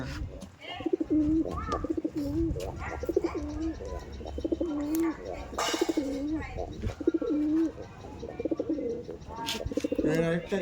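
Madrasi pigeons cooing in a loft, with repeated soft throaty coos and rising calls up close, alongside scattered chirps, wing flutters and background voices.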